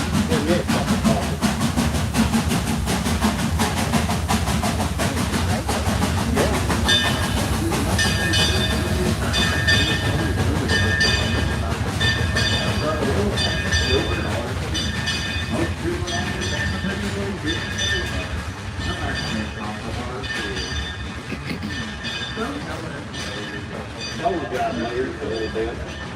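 A train rumbles past an outdoor chuckwagon cooking demonstration at Silver Dollar City, a continuous loud rolling roar with rhythmic clacking and metallic squeal, while people talk nearby.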